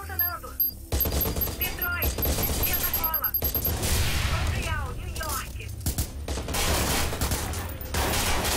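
Rapid bursts of gunfire in the Watch Dogs video game, with repeated shots and fusillades over a dense, noisy backdrop of game effects and music, while a player talks over the action.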